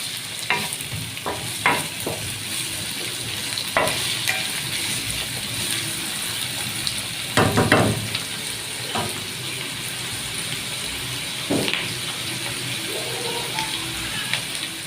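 Bell peppers, then onion on top, frying in a pan, a continuous close sizzle with intermittent clinks and scrapes of a utensil stirring, a louder burst of hissing midway.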